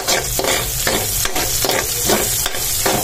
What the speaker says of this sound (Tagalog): Tapos haluin natin. Dito na rin tayo nag-gisa.